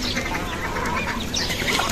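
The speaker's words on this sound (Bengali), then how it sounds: "দেখেন যেদিকে তাকাবেন শুধু সাদা হাঁস আর সাদা হাঁস।" A flock of white ducks feeds nearby, with busy overlapping quacks and honks over a constant bed of splashing and shuffling sounds, with no talking.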